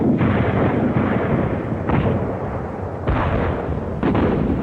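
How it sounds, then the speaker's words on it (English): Heavy artillery bombardment by 340 British guns at Neuve-Chapelle on the Western Front, a continuous rumbling roar of massed fire with distinct heavier booms every second or so, loud and dense. "340 guns began the heaviest bombardment the British Army had ever seen."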